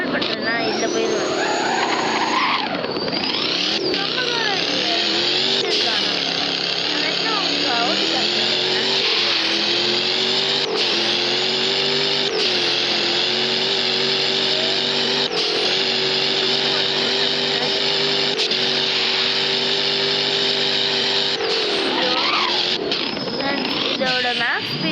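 A Land Rover Defender engine droning steadily in the Driving Empire video game, a sustained loud tone that holds level and shifts pitch a few times with gear changes.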